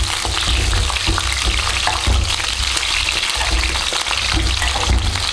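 Brinjal pieces frying in hot oil for a Tamil oil brinjal gravy, giving a steady, loud sizzle with sharp spluttering pops throughout, no voices.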